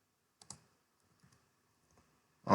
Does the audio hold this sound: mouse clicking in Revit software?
yes